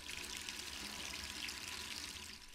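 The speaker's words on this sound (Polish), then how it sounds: "jakaś woda mi tutaj leci?" Water running from a tap in the Resident Evil 3 video game, a steady soft hiss of flowing water continuing evenly at low volume with no voices.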